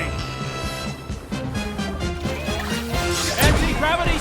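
A shoulder boomerang attack in the UFO Robot Grendizer video game: a busy run of whooshing, clanking game effects and a sharp impact near the end, with a voice calling out over the action.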